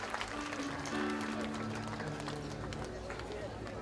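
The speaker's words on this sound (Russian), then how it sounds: "Громкие аплодисменты." Applause from a congregation at an evangelistic meeting in Donetsk, Ukraine, a dense crowd clapping beneath a loud sustained voice that rings out over the hall.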